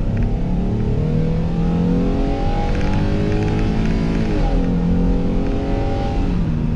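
A 2020 Ford Transit van accelerates hard, its engine note climbing steadily through the gears with a shift dip midway, loud and continuous with no talking.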